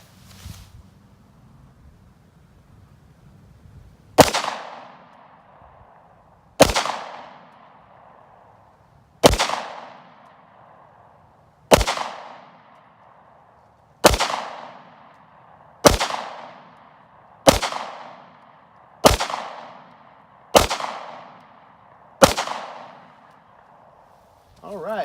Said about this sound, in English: We're gonna fire 10 rounds out of it at our silhouette here.